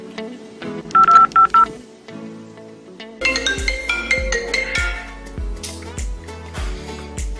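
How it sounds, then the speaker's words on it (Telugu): Touch-tone phone dialing beeps in a short burst followed by a louder, repeating ringtone melody with steady pulses, fairly close and clear without talk, for a call to a man named Sunil. "సునీల్కి కాల్"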